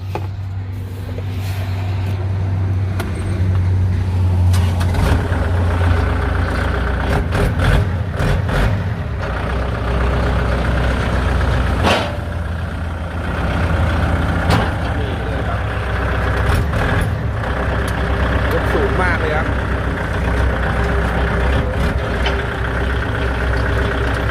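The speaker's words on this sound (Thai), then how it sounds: "เดี๋ยวเราลองมาสตาร์ทเครื่องยนต์ดู" A used Kubota L5018 tractor's diesel engine turns over and settles into a steady, loud idle with a low rumbling chug that carries on throughout.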